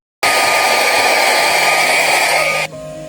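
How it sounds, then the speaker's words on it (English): A vacuum cleaner clearing glass dust gives a loud, steady motorized whine with broad airy noise that runs continuously for a few seconds, then cuts off abruptly, leaving a faint hum. "Use a vacuum cleaner to clear away the glass dust."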